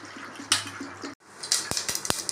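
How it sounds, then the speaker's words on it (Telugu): Flattened rice (poha) is rinsed by hand in a bowl of water, close sloshing and splashing with a few sharp drips and stirring clinks, no voices. "ఈ అటుకులను అయితే ఇట్లా వాటర్ వేసి కడుక్కోవాలండి, డస్ట్ ఉంటూ పోతుంది"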